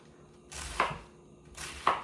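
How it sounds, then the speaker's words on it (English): A knife slicing through crisp cabbage, two crunchy cuts about a second apart, each ending in a sharp tap on the board, close by. "I'm going to just slice it on down"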